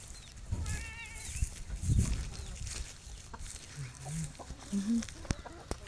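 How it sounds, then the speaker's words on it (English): On a sunny farm, sheep give a few short, low bleats in the second half, after hens cluck nearby early on, and a person speaks between the calls. "Hi sheepies."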